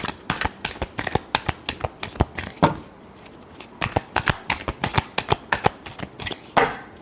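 Tarot cards being shuffled during a Virgo reading, a rapid series of crisp riffling snaps and flutters repeating in bursts with short pauses, close and clear with no talking.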